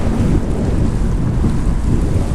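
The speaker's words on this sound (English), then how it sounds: "I'm just idling and I'm going 5 miles an hour" A Sea-Doo Fish Pro Trophy personal watercraft idles slowly on open water, its low engine churn mixed with water wash and heavy wind buffeting across the mic, loud and continuous with no voices.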